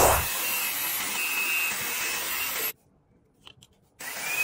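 A cordless handheld vacuum cleaner, bought to clean a car interior, runs with a steady whirring roar while picking up dry tea leaves, then cuts off abruptly partway and briefly switches back on near the end.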